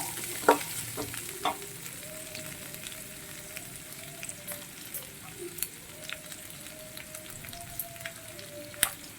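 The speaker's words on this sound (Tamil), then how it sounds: "அதனால் நான் வந்து சோம்பு சேர்த்துக்கிறேன்." Fennel seeds frying in a pan of oil for an onion egg gravy, a soft continuous sizzle with scattered small crackles and a faint tonal hum running through.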